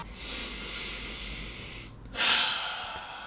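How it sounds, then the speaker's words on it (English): A person sniffs at a brand-new Reebok Pump basketball shoe, making a long steady nasal inhale followed by a sharper, louder snort-like sniff, close to the microphone with no talking. "Sniff test."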